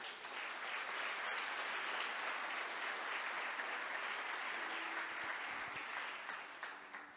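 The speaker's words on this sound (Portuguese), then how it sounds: "Vamos aplaudir a palavra de Deus?" Church congregation applauding during a sermon, a steady, even roar of many hands clapping that holds for several seconds before easing off at the end.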